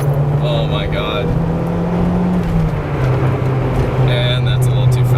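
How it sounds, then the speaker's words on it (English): Inside a moving Toyota MR2 GT-S, a loud steady drone fills the cabin, with a turbo whine heard behind the seats, while people talk over it. "You really hear that turbo right behind your left ear. It is a fantastic noise."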